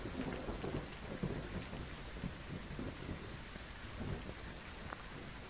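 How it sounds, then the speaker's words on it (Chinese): Thunder and rain from the ghost-hunting video game Phasmophobia. A low rumble rolls continuously under steady falling rain, at a moderate level and without speech. "就是打雷。"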